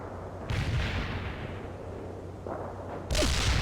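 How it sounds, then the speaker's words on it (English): Mortar barrage firing in World in Conflict: a few heavy, loud thumping bursts separated by quieter rumbling, with a sharp final blast at the end. "Firing mortars. The barrage will reach you soon."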